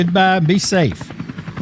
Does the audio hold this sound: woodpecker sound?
no